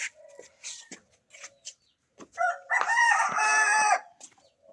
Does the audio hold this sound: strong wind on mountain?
no